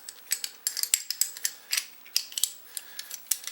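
AK-47 rifle bolt being set back into the bolt carrier and slid into the receiver during reassembly, a close series of sharp metallic clicks and scrapes in an uneven rhythm.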